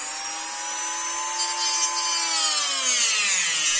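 Close, steady sawing and grinding on a Kydex knife sheath, a continuous rasping with a high whine whose pitch slowly drops toward the end, no talking.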